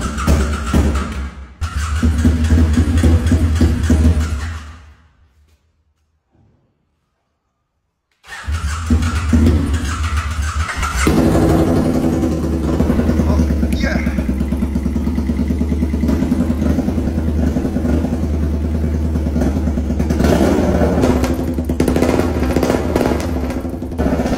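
A salvaged, mud-covered BMW motorcycle engine is restarted after an oil change and a new air filter, cranking and firing into a loud, steady, close idle after a brief silent gap, with no voices over it.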